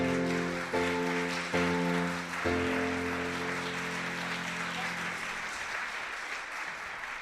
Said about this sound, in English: Isn't that lovely when the applause starts before the music has even finished?